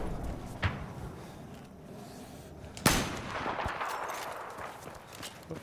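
Gunfire in the PS4 version of Battlefield 4 during online multiplayer: a single sharp shot, then a louder, heavier crack about two seconds later, both over a steady rumble of battlefield ambience.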